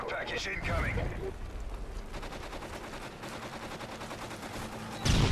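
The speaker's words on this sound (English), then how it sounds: "Use my LMG and shoot 100 bullets." Rapid LMG machine gun fire in Call of Duty MW3, a steady stream of shots lasting several seconds with a louder burst near the end, mixed under game noise.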